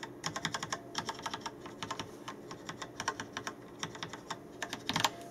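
Typing on a Rapoo V700 mechanical keyboard with Yellow switches, large Enter and long Shift keys: a steady run of crisp, close keystrokes in quick irregular bursts, with no talk.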